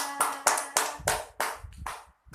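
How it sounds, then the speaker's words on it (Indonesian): A fifth-grade class claps for a student named Rasya, a run of about seven loud, crisp group claps in a steady beat, close by and with no talking. "Tepuk tangan untuk Rasya."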